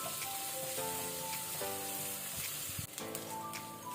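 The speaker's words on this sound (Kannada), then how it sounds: "ಇದನ್ನೀಗ ಒಳ್ಳೆ ರೀತಿ ಲೋ ಟು ಮೀಡಿಯಂ ಫ್ಲೇಮಲ್ಲಿ ನಾವು ಫ್ರೈ ಮಾಡ್ಕೊಳ್ಳುವ" Ginger-garlic paste with asafoetida fries in a pan over low to medium flame, a steady close hissing sizzle lasting throughout, with faint sustained tones in the background.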